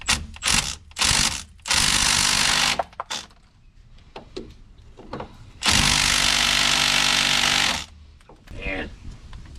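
Stubby ratchet working loose rusty brake caliper bolts on a Chevy Suburban, rapid clicking bursts that start and stop repeatedly, loud and close, with two longer runs of ratcheting.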